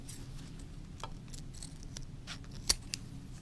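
Scissors snip through window screen material in a few quiet, isolated cuts, one sharper snip standing out near the end, close by and without talking.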